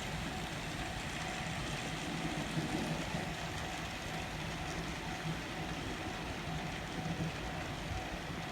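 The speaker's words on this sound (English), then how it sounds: "And now it's time to run some trains." A model train runs on a home layout, its steady rolling rumble of wheels and motor holding constant and fairly faint throughout.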